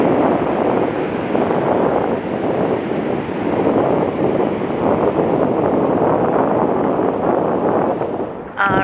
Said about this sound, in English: All right, it's a little windy,